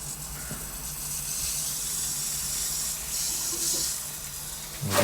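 Garden hose water running through a mister outdoors, a steady continuous hiss and rush of flow at moderate level, ending in a brief louder burst.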